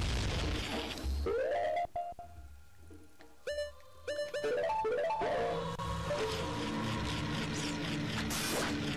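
In The Legend of Zelda: Ocarina of Time, game bomb blasts and chaotic effects ring out amid synthesized tones and rising chimes, loud and busy over steady background game music.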